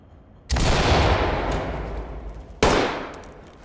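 Two loud flashbang detonations in a tactical police shooter, each a sudden sharp bang followed by a long decaying roar, the first about half a second in and the second about two seconds later.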